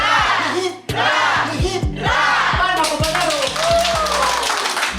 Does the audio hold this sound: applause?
yes